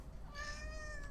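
A single soft, drawn-out cat meow, faint and close, lasting under a second against quiet background noise.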